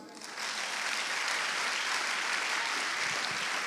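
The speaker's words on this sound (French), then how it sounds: "Acclame Jésus" A church congregation applauds together, steady broadband clapping swelling in within the first half second and continuing loud and dense throughout, with no talk over it.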